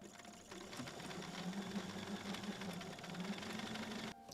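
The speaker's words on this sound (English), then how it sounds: "if you have your own labels like this, you can sew them in as easy as this." A sewing machine stitches a label onto a quilted fabric book cover, a fast steady mechanical whirring and rattle that runs nearly the whole time and stops abruptly just before the end.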